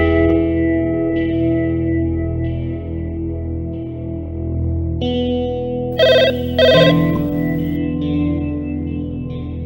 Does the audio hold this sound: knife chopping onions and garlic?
no